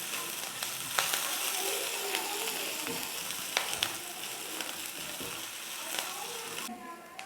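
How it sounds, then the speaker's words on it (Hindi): Finely chopped green chillies sautéing in a pan for a potato samosa filling, a continuous crackling sizzle broken by scattered utensil taps and scrapes, close and fairly even throughout. "अब हम इसे थोड़ा भूनेंगे।"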